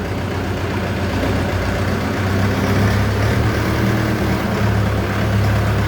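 Shifeng 404 tractor engine running at a steady idle, a loud continuous low diesel rumble with no pauses or speech.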